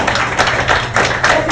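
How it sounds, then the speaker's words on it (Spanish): Listeners at a radio station anniversary broadcast applaud a chef with short, uneven rounds of close, thumping claps that swell and fade in quick pulses. "Eso merita que le demos un aplauso al sombrero,"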